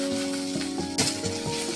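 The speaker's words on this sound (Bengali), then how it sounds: "এবার পেঁয়াজ কুচি দিয়ে হালকা ভাজবো" Chopped onion fries in a pan with a brief, steady sizzle, broken by a few soft clatters of stirring over a faint background hum.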